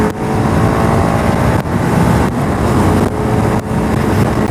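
A TVS Apache RR310 motorcycle accelerates through the gears to overtake a bus in the city, its engine note rising steadily with brief dips at each shift, loud and close under heavy wind rush.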